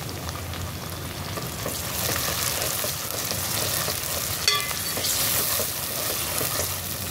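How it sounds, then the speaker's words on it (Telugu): Onions, green chillies and a chopped medium tomato fry in a pan for a chicken gravy curry, a dense continuous sizzle up close with occasional scraping of a stirring spoon. "ఉల్లిపాయలు, పచ్చిమిర్చి అయితే ఫ్రై అవుతున్నాయండి."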